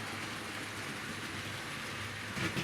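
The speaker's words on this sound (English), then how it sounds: "Quite a nice long freight train we've got now." A Tri-ang Super 4 model railway freight train, a long rake including salt and aggregate wagons, runs on a home layout with a steady low rumble and faint rolling clatter, quiet and continuous, swelling slightly near the end.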